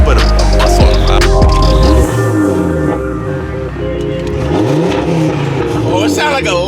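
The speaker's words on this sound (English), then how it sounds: "It sounds like a little Lambo" A BMW G80 M3 sports car engine revs hard and loud, with a deep roar that rises and falls, then a second surge of revs as speech is heard in the clip.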